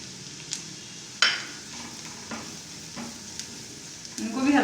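Onion and spices cook in a pan with a low, soft sizzle, punctuated by several distinct spatula scrapes and a louder stir near the end.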